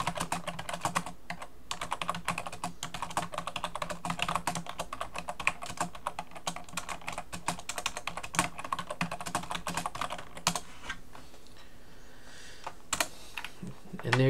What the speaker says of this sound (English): you can come up here and type in what you want about the track